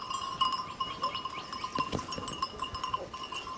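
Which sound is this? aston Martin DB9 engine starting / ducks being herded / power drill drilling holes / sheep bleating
sheep bleating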